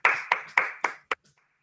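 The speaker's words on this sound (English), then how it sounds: "I'd like to give them a round of applause" Several people clap together at a village board meeting, five sharp, fairly close bursts that trail off quickly into a faint last tap.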